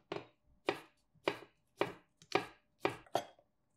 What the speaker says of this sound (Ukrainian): Помідори наріжте соломкою, обрізаючи серцевину